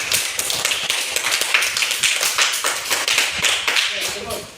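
Classroom applause for a student who answered well, a steady patter of many hands clapping across the room for several seconds, fairly loud and continuous.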